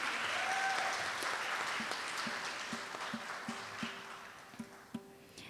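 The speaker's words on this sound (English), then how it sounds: "Let's have another round of applause for Sahiti." An audience applauds a dancer at a Bharatanatyam arangetram recital, a full burst of clapping that gradually thins and fades, ending in a few scattered, louder individual claps near the end.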